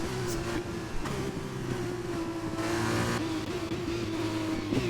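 Formula 2 racing cars in a sim-racing video game league race produce a continuous high-pitched engine drone with slight pitch shifts as they accelerate, steady and loud throughout with no voices.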